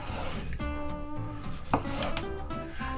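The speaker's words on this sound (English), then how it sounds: "I've got a nice proper English cucumber here. Cut it at an angle." A knife cuts angled slices from a proper English cucumber on a board, a few soft chopping strokes with one crisp cut standing out, all under steady background tones.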